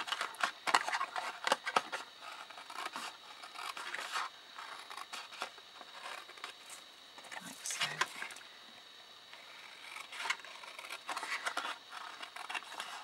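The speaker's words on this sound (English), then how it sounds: "So all I'm going to do is just snip and notch, snip and notch, like so." Scissors snip and notch card stock for a wine bottle hanger, giving a run of short, close crisp cuts and rubbing scrapes in an irregular rhythm with no talk.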